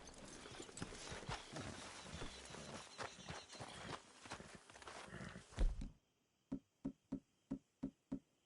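Horse hooves in Red Dead Redemption 2 clip-clop steadily under a busy layer of game sound, then the noise drops away and several slow, evenly spaced hoofbeats ring out alone and fairly close.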